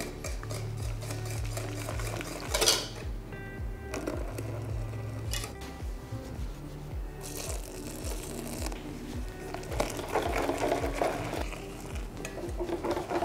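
A whisk beats boiling milk into egg yolks in a bowl for chocolate éclair pastry cream, rapid rhythmic scraping and clinking strokes close by, with brief pours and pauses and no speech.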